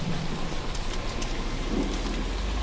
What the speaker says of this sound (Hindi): तभी रास्ते में तेज बारिश होने लगती है।